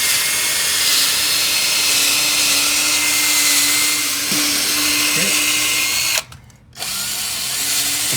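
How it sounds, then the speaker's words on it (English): A steady, loud power drill with a 1/2 inch bit whines continuously boring through wooden floor joists, with a brief drop where the motor cuts out, then it resumes. "we're using a 1/2 inch drill bit to drill through both joists"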